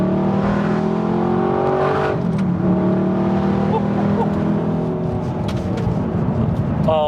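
An Audi R8 fitted with a titanium exhaust accelerates hard on an open road, its engine note rising loud and steady throughout, with a brief rev shift midway.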